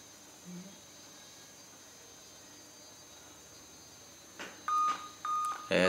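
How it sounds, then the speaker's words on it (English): A laptop PC shutting down gives a few short electronic beeps near the end, after several seconds of quiet room hiss, with the last beeps louder and closer together. "We just want to know that whether the beep sound exists even if we are shutting down our PC."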